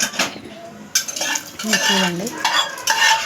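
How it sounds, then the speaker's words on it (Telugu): Vermicelli fried in ghee and stirred in a pan, with a scraping, clinking spoon against the metal over a soft sizzle, close and busy; a brief spoken word comes early. "సేమియా వేసుకొని వేయించుకుంటాం అన్నమాట."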